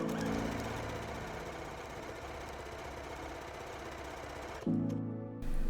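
A sewing machine runs a wide zigzag stitch along a bath cape hood, a fast, steady mechanical chatter close by that pauses briefly near the end and then resumes.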